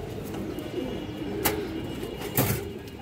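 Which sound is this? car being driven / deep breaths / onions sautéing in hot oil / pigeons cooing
pigeons cooing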